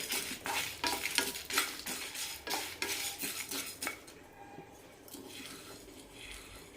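Sesame seeds roasting in a pan while being stirred, heard as close, rapid rattling scrapes and clinks of a spoon against metal with a light sizzle, easing off into softer stirring in the last few seconds.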